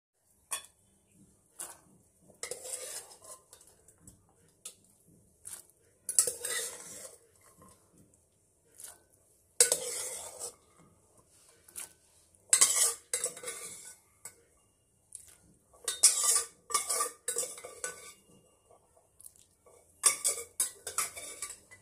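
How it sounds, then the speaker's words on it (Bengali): Boiled ghugni peas scooped out of a pressure cooker, with repeated metallic clinks and scrapes of a spoon against the pot, sharp intermittent bursts separated by brief quiet gaps, close by. "তো এটা এবার আমি বার করে নেব প্রেসার কুকার দিয়ে।"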